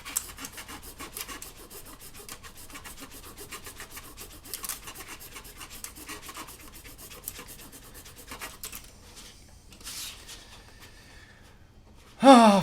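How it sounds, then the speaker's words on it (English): A rasp files down printed circuit boards with steady, rapid scraping strokes that carry on for several seconds, then thin out before a short, louder vocal sound at the end. "I just filed down some PCBs."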